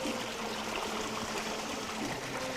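Spring water fed by snowmelt in a mountain village of Kuhistoni Mastchoh runs in a steady, close, continuous rushing flow with no pauses or talk.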